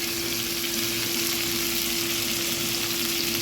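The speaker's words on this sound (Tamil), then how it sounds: "வெங்காயம் வதங்கிட்டு தக்காளி சேர்த்துருக்காங்க." Onions and tomato fry in a pan with a dense, continuous sizzle, close and steady throughout with no talk.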